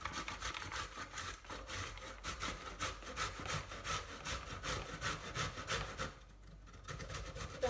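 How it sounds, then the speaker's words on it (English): A washed courgette with the skin left on is rubbed against a grater in quick rhythmic strokes, close and steady, with a short pause near the end. "So I have a washed courgette, and now I'm gonna grate it."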